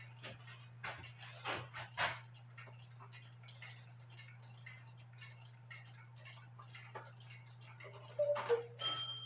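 A cuckoo clock mechanism, running too fast, ticks in a steady, quiet, close-up rhythm over a constant low hum, with a brief louder clatter near the end.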